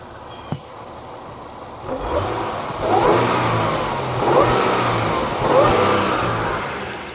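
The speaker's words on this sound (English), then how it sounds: "I'll give it a quick little rev and see if we can get some blower whine out of it" A 2015 Range Rover Sport engine idles, then revs up three times in quick succession, each rev rising and falling with a faint supercharger whine riding on top.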